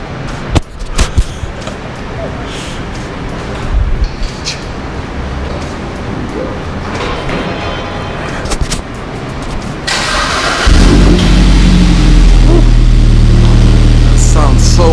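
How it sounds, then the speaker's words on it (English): A BMW 120i fitted with a custom 1M quad exhaust starts up after about ten seconds of quiet background, then settles into a loud, deep, steady rumble at close range. "And now the car is about to get started up."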